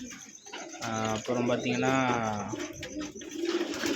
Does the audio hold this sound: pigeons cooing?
yes